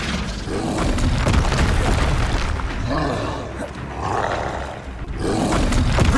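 A Flipendo spell cast in Hogwarts Legacy bursts out as a loud, dense roaring boom with a rumbling low end, swelling in waves across several seconds.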